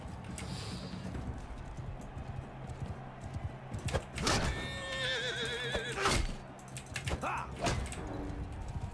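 Horse whinnies and neighs in a medieval fantasy combat game, Realm of Thrones, rising out of a steady bed of clip-clopping hooves and ambient game noise, with a couple of loud close neighs near the middle.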